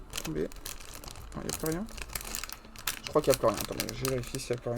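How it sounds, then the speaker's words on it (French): Plastic packaging from a LEGO Super Mario set crinkles and rustles close by in short bursts while someone speaks over it. "Excusez-moi pour ce bruit de plastique."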